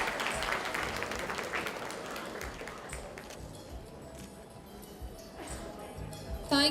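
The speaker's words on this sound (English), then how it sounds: "Let's have a huge round of applause." A crowd claps steadily, loud at first and gradually tapering off, with a few scattered claps near the end.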